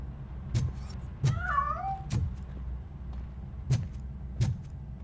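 A single cat meows with a rising, wavering call in the middle, set among sharp knocks and thumps over a low steady rumble, in the video game RoboCop: Rogue City.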